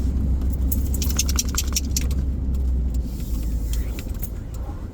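A car drives along a road in North Carolina, a steady low engine and road rumble filling the cabin with faint rattles and a light jingle.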